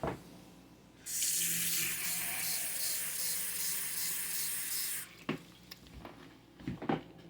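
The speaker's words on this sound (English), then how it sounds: "So I'm going to pour the water in" Water is poured from a cup into an Instant Pot, a steady close splashing hiss lasting about four seconds that stops abruptly, followed by light clinks and handling sounds.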